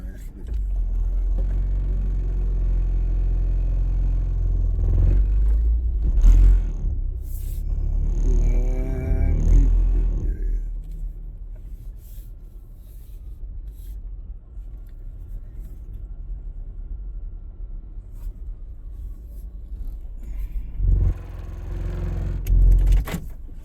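Cars idling and pulling through a crowded Sheetz gas station, a steady low engine rumble with a louder vehicle passing partway through and again near the end, while people talk nearby.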